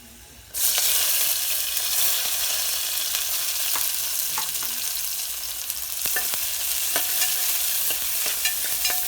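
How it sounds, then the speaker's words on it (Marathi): Garlic and onion drop into hot oil in a pot and burst into a loud sizzle. Frying and stirring go on close by with scattered scrapes and clicks, and no one talks. "तर आता मी टोपामध्ये थोडंसं तेल घेतलं आहे, त्याच्यामध्ये आपण थोडंसं लसूण टाकूया. नंतर कांदा टाकूया आपण."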